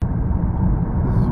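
A BMW E90 335i engine on its stock tune rumbles steadily at close range, a low, even drone with no voices.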